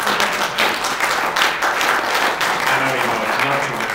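An audience at a Republican Liberty Caucus of New Hampshire political speech breaks into loud, continuous applause, a thick, steady roar of clapping that holds for the whole stretch, with no voice over it.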